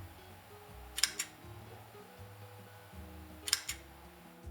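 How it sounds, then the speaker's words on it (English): A Canon EOS M fires its shutter twice a few seconds apart, each a quick, crisp double click, close but quiet over a faint background hum. "it has one of the cutest shutter sounds."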